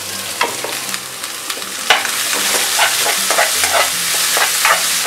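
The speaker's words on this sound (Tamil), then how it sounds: "பூண்டு நல்லா வதங்கினோடனே வெங்காயம் சேர்த்துக்கோங்க. கொஞ்சம் நிறையாவே வெங்காயம் சேர்க்கணும்." Onions sautéing with garlic in a hot pan: a steady, close sizzle and fry with repeated stirring and scraping strokes, continuous throughout with no talking.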